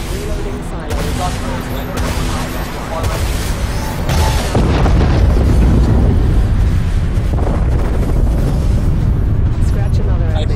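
A nuclear missile slams into an enemy ship in the Dreadnought game, a loud, deep blast that builds into a sustained rolling roar over several seconds, with talk running underneath.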